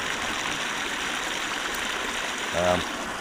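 Water draining off rain-soaked farmland toward the River Bain runs as a steady outdoor stream wash throughout, with a brief voice near the end.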